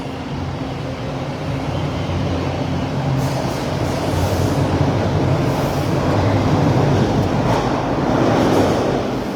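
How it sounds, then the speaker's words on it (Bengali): Trains arriving and departing at a busy railway station, a steady loud rumble of wheels and carriages rolling past throughout, swelling and easing with faint higher rattles and squeals, with no talk. "এই যে দেখছেন একটা গেছে এই আরেকটা আছে তো ট্রেন এভাবেই একটার পর একটা আসছে যাচ্ছে"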